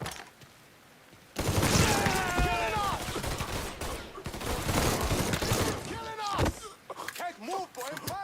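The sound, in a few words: gunfire in Mafia 3 video game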